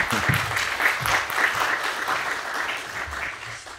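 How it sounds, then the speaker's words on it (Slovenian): An audience at a Slovenian wood-industry lecture event applauds an arriving lecturer, a steady, moderately loud wash of many hands clapping with no speech over it. "Predlagam, da vseeno vsakega nagradimo z enim aplavzom, že ko prihaja."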